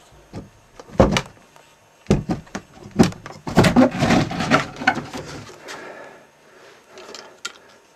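A stuck door being forced, with several sharp bangs and thumps followed by a longer grinding scrape as it shifts, then fainter knocks, loud and close in a quiet room.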